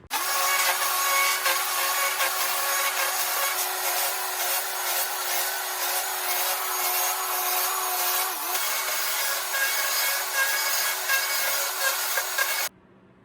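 Carved wooden tree limbs on a chainsaw carving are sanded with a power tool, giving a loud, steady abrasive whir that runs almost unbroken for about twelve seconds before it stops abruptly.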